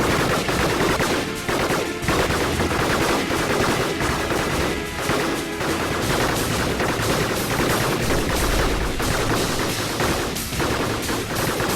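Combat robots in the strategy game Gladiabots trading rapid, continuous gunfire, a loud dense stream of machine-gun bursts with scattered heavier blasts, filling the whole stretch with no talk.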